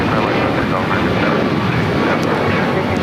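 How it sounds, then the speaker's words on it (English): An Alaska Airlines Boeing 737 MAX 9 jet at LAX produces a loud, steady broadband engine roar that fills the whole clip, heard close by with a faint voice buried beneath it. "This Alaska Airlines flight 1348 heading to Puerto Vallarta, 737 MAX 9"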